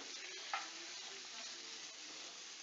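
Paneer butter masala gravy with fenugreek and coriander being stirred in a pan, a steady soft scraping and bubbling under a quiet hiss, with one brief clack of the spoon early on.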